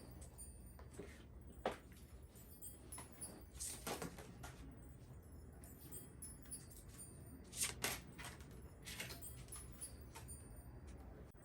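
Oracle cards shuffled by hand, quiet soft riffles and brief papery bursts at irregular intervals, close and faint with no talking.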